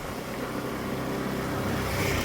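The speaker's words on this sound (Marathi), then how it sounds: "समोरच रिक्षा आली" An auto rickshaw passes close by on a road during rain in Chiplun, its engine drone merging with a steady, loud wash of rain and tyre hiss, unbroken and without voices.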